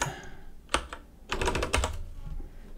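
Typing a password on a Mac keyboard, close and clear key clicks: a couple of isolated taps, then a quick burst of keystrokes, alone without speech.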